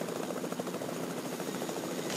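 A helicopter in Fortnite, its rotor throbbing steadily and continuously at close range, loud and unbroken with no voices over it.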